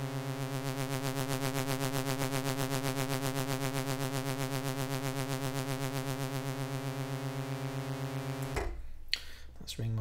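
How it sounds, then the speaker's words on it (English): A ring-modulated synth oscillator in Steinberg HALion 6 produces a dense, metallic, inharmonic buzzing tone with a rapid pulsing flutter, sustained steadily for about eight seconds before cutting off into brief clicks. "That's ring modulation."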